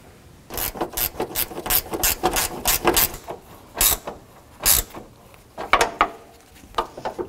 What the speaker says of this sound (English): That is a 10 millimeter socket or wrench.